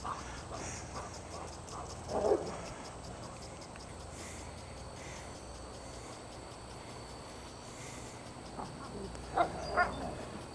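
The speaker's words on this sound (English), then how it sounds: "That's an excellent place to wear your dogs out." Dogs bark a few times in short bursts, mostly distant, over a steady outdoor background with faint insect-like hum.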